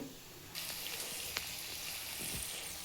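Cumin and peanuts fry in a pan, giving a faint, steady hiss of sizzling oil that swells slightly after a brief quieter start, with a soft tap or two.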